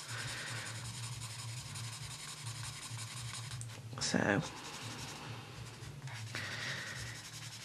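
Crayola budget coloured pencils rubbing and scratching across paper in steady strokes, close and continuous, with a brief louder scrape midway and a single spoken word.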